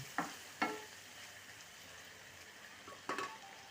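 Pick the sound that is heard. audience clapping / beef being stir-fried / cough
beef being stir-fried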